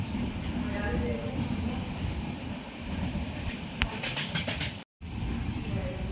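A train rumbles steadily along the rails of the Konkan line with a continuous low roar and rattling, a few clicks and clacks standing out near the end.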